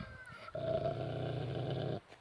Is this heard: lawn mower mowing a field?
no